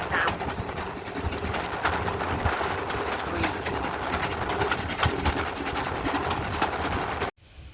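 Steam locomotive 5239 on the Paignton and Dartmouth Steam Railway passes close by with a service train, a loud steady rumble of working engine and rolling wagons with rhythmic clatter, continuing for several seconds before cutting off abruptly near the end.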